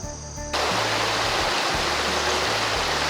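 A misty river flows with a dense, steady hiss of running water that swells suddenly after a quieter start and then stays loud and unbroken, no voices heard.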